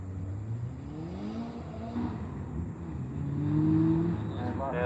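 Drift car engine at Ebisu Circuit in Japan revving hard against the limiter during practice, a continuous loud mechanical drone that builds toward the end with rising harmonic tones, while a commentator speaks over it.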